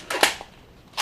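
A BOOMco Whipblast toy blaster fires darts in a quick burst of two or three sharp snapping pops close by, followed a moment later by another loud snap.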